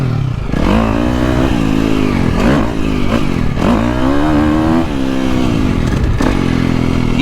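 A KTM 350 SXF motocross bike rides hard, its loud, close engine rising and falling in repeated revving sweeps as the rider works the throttle and shifts, with some clatter under the engine note.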